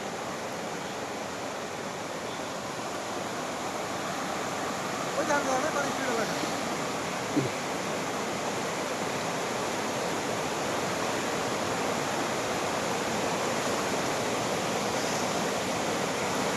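Released water roars steadily over a dam, a broad continuous rushing wash from a distance, with a voice talking faintly beneath it.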